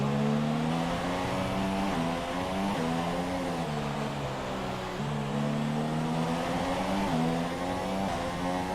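An F1 2017 race car engine at a Mexico Grand Prix in the video game, running loud and steady near its limit with rising and falling pitch as it shifts through gears, heard alone.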